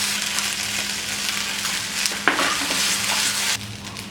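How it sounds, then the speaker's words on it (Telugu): Ginger garlic paste fries in a pan with fried eggs for egg biryani, a steady, close sizzle with a sharp burst of crackling partway through and then a slightly quieter hiss, without talking. "ఇప్పుడు ఇందులో కొద్దిగా అల్లం వెల్లుల్లి పేస్ట్ వేసి కొంచెం దూరగా వేయించుకోవాలి."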